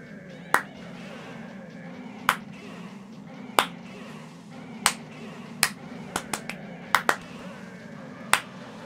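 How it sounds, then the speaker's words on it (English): Hand claps during a Donkey Kong Jungle Beat game session: about a dozen sharp, irregularly spaced claps, some in quick pairs, stand out crisply over a low, steady background hum. "I clap."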